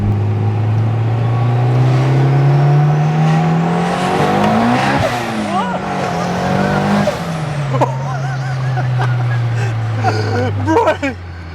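A turbocharged Honda DC2 Type R with a T51R mod turbo accelerates hard, its engine note climbing through gears with a rising turbo whistle and brief tire chirps, loud and close from inside the car, with people talking over it.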